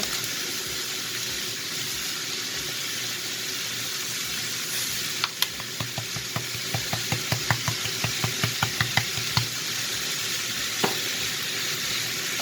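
Onions and garlic, seasoned with salt and pepper, fry in a pan over lowered heat with a constant close sizzle, joined midway by a quick series of light clinking stirs, with no speech.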